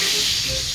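Potatoes frying in hot oil in a karahi give a steady, fairly loud hissing sizzle that runs unbroken through the short clip, with no voices over it.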